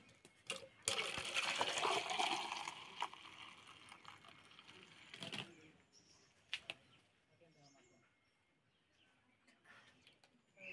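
Water is poured into a container to float a ball upward, giving a bright splashing, gurgling rush that is loudest at first and then tapers into quieter trickles with a few sharp clinks.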